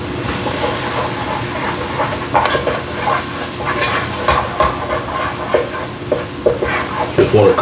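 Beef stew meat sizzles in a hot pot as all-purpose flour is stirred through it, with steady frying hiss and repeated scraping, clattering stirs up close.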